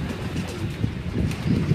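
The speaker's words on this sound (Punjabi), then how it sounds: "ਉਹਨਾਂ ਦੇ ਨੀਲ ਦੁੰਬੇ ਕਬੂਤਰ ਨੇ ਜੀ" Neel Dumbi breed pigeons in Faisalabad give soft, low cooing calls close by, a few throaty murmurs repeating over a short stretch.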